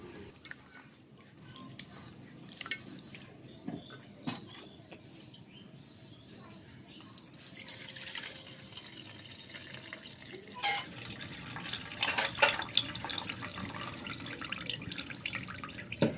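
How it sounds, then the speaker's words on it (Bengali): Gobindobhog rice is being washed by hand in water, with soft sloshing, dripping and gentle grain rustling close by, growing slightly busier and louder in the second half. "তো চালটা একবার ভালো করে ধুয়ে নিচ্ছি।"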